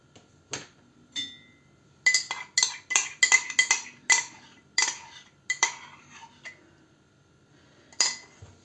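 Four egg yolks are worked with 250 grams of sugar in a bowl, giving a run of bright clinks and scraping knocks of a utensil against the bowl in an irregular rhythm, close by.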